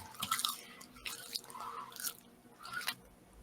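Close, wet chewing of food, with soft crunches and squishy bites repeating every second or so, no talk over it.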